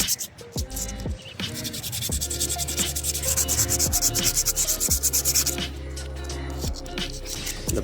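Sandpaper rubs motorcycle brake pads from a Triumph Speed 400 in steady back-and-forth strokes, a close, rhythmic scratchy rasp that keeps going throughout.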